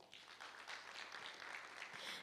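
An audience at an award ceremony applauds the guests. The applause is a faint, steady wash of many hands clapping at a distance, continuous and without talk.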